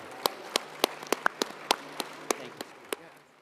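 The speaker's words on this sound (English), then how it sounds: "Please join me in a round of applause for our panelists." A handful of scattered, sharp claps sound from a small audience at the end of a defense policy panel discussion. The claps are sparse and uneven, a dozen or so distinct hits spaced apart, thinning out before fading into quiet room tone.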